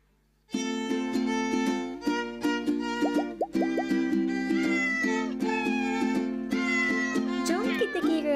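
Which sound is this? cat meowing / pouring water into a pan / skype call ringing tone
cat meowing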